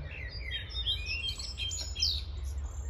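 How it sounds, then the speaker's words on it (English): Songbirds chirp and trill in Tiergarten park in Berlin, several high twittering calls overlapping continuously over a low steady rumble of distant city traffic. "Oh, I like those bird song,"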